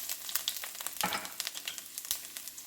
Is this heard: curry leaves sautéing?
yes